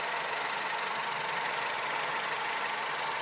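A Honda Civic engine idles steadily and evenly, fully warmed up, humming continuously, close and moderately loud, with no talking.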